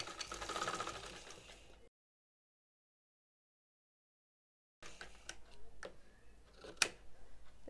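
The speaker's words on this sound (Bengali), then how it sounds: "এখন আমি সেলাই করে দিব।" A sewing machine runs in short bursts while stitching a kameez neckline, fairly quiet and close, with a long silent gap and a few sharp clicks of the mechanism.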